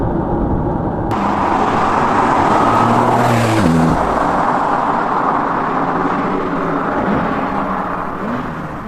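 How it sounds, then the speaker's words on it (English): A Porsche sports car in Sport Plus mode, its engine building to a loud rising rev that peaks and eases into a sustained cruising roar, heard close from inside with road noise and no talking. "I've just put the car in Sport Plus, and I'm going to put it in manual"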